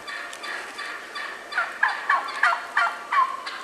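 Wild turkeys gobble in spring brush, a run of about six loud, rattling gobbles rolling in close succession after a quieter stretch of distant calling.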